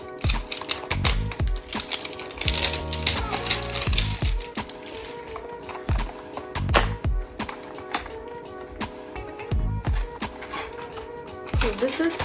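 An Estée Lauder Night Repair Serum box is unwrapped from its plastic packaging: close, continuous crinkling, crackling and quick tapping of plastic and cardboard, with a voice speaking partly underneath.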